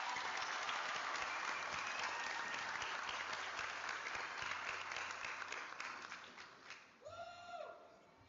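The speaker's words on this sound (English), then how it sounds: "Let's give him another round of applause." Sustained applause from a large audience at a Barstow Community College commencement ceremony, steady and dense, then thinning out toward the end as a brief tonal sound cuts in.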